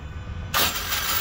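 A standard-transmission Scion FR-S 2.0 with a damaged flywheel ring gear is cranked: after a half-second lull, a loud, harsh, grinding starter whir with rattling metallic texture runs steadily to the end.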